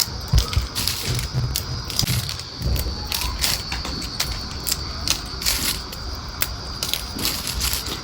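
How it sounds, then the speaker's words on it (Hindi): Chutney being ground by hand in a village home kitchen, a steady gritty crushing and scraping that runs throughout at close range, with no one talking. "सबसे पहले चटनी पीस लेते हैं"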